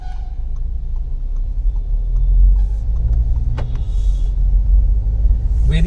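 A 2021 Skoda Kushaq with a 1-liter engine and automatic gearbox drives along, giving a steady low cabin rumble of engine and road noise, fairly loud and constant, with a few faint clicks.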